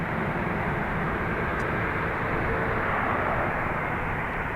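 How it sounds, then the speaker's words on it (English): Airliner pushing back at Dublin Airport, heard as a broad, steady low engine rumble and roar from a distance, unchanging and continuous with no voices. "I believe that's GSG pushing back."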